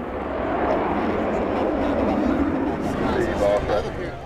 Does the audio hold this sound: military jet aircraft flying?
yes